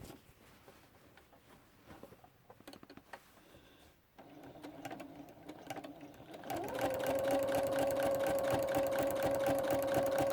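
Sewing machine echo quilting, feeding fabric through: the motor starts after some quiet handling noise, then settles into a loud, steady rapid stitching hum with a strong, even tone that continues to the end.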